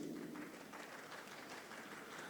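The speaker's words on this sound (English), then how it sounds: "Big round of applause for Ms. Nicola Elliott" Applause at a destination marketing forum as a speaker takes the stage, a steady, fairly distant wash of many hands clapping throughout, with no talk over it.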